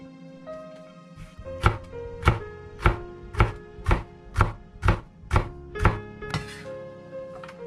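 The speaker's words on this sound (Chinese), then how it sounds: "1个黄色彩椒和1个红色彩椒都切成丝" A knife slices yellow and red bell peppers into strips on a cutting board, about a dozen crisp, evenly spaced chops close up over a soft tonal background.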